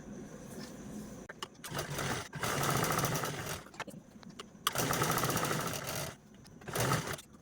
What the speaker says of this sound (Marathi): आणि दोन्ही बाजूने स्टिच करूया